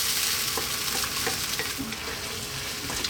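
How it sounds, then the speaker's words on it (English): Fresh tomatoes fry over high heat in a pan for a spaghetti sauce, giving a steady, close sizzle with occasional stirring clicks and scrapes throughout, no voices. "We're going to cook it on fairly lively heat, quite a high heat, for about 7 to 8 minutes."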